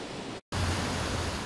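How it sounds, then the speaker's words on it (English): Floodwater raging over a greenway walkway after a storm, a loud, dense, continuous rushing roar with a brief cut near the start. "you can already tell how raging water is filing over"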